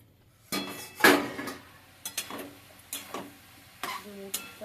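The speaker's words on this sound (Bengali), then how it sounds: "একটা ডুমো চাপা দেওয়া ছিল আমি চাপাটা খুলছি" A lid comes off a cooking pot holding a shrimp and fig curry, with a few close metallic clinks and scrapes of cookware, then quieter clatter.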